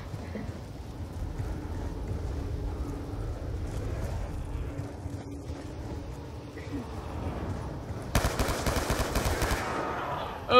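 Gunfire in Black Ops 2 Nuketown Zombies over a steady rumbling game soundscape, with a dense burst of rapid, loud shots near the end.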